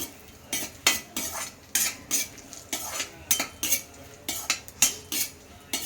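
Cashews and almonds fried in ghee, stirred with a metal spoon that scrapes and clinks against the pan in a quick irregular rhythm of sharp strokes over a faint sizzle.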